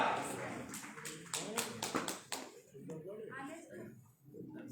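An audience claps in welcome for an ambassador at a business gathering in Sundargarh, Odisha, a brief burst of close, sharp claps that fades into a person talking.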